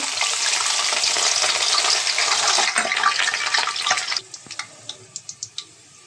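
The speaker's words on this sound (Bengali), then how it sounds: "আমার তেলটি গরম হয়েছে, আমি এখন রসুনগুলো দিয়ে দিচ্ছি।" Garlic dropped into hot oil for a sweet, sour and spicy mango pickle sizzles loudly and steadily, a dense frying hiss that drops away near the end, leaving a few sharp crackles and pops.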